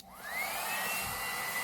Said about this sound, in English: if you want to see how the blow dryer works, let me show you